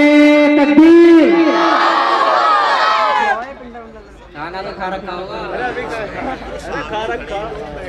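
A crowd at a religious gathering in a madrasa's annual jalsa shouts a loud unified call of the Takbir chant, followed by a second rougher wave of mixed voices and shouting.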